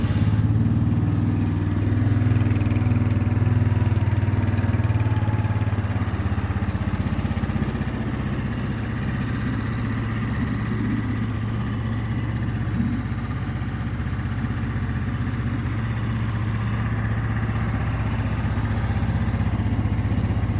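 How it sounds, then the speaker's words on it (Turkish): A SYM Xpro Cargo motorcycle engine idles steadily nearby, a low continuous rumble with an even tone throughout and no talking. "Motorun şöyle sesini de bir dinletelim."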